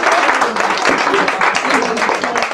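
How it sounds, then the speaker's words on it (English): Audience applause for a panel at a parenting talk on children under pressure, a steady dense wash of many hands clapping throughout at close range and fairly loud. "Can we clap it up for the panel"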